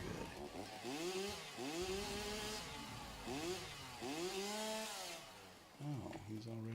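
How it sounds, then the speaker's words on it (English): Chainsaw mod in the video game Satisfactory revs in repeated rising and falling engine whines, several surges in a row, close and fairly loud. "let's see if we can use our chainsaw mod"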